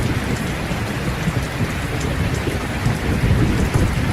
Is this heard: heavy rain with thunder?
yes